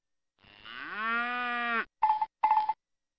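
A cartoon cow moos in a kindergarten spelling game, one long rising moo followed by two short electronic blips, clean and alone.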